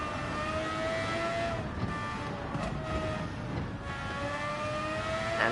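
Race car engine in Gran Turismo 7 during Nations Cup practice, holding a steady high whine with rising and falling gear-change sweeps through a paced lap, continuous and fairly loud.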